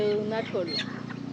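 A brief squawk and clucks of chickens at a village market rise over background chatter, with someone speaking close by.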